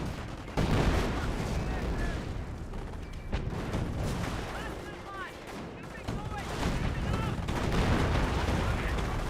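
Repeated gunfire and heavy cannon blasts from a tank in the game Company of Heroes, with shots and explosions layered over a busy battle din and a brief lull midway.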